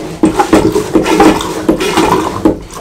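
Rhythmic hand-pump strokes on a marine toilet aboard a 2015 Bavaria 46 Cruiser sailboat, about six sloshing, squelching pumps in a steady cadence with water gurgling, close up.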